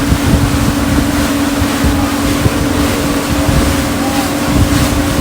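A motorboat running at speed on open water, with a steady loud engine hum and constant wind rush and water spray on the microphone, no pauses, voices barely present beneath.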